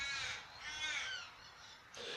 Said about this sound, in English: There's a crow laughing.